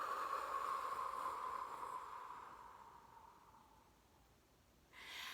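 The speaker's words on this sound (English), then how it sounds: "So inhale," One long, slow breath during a calming breathing exercise, a close airy rush that gradually fades over several seconds before a fresh breath starts at the end.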